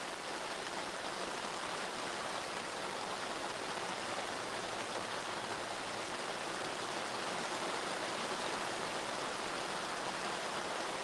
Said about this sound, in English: this is like torrential downpours once again